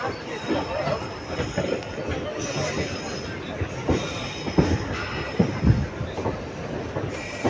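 Train moving at Nagapattinam station, a steady rumble with rhythmic clickety-clack of wheels over rail joints and faint squeals, with a low babble of voices in the background.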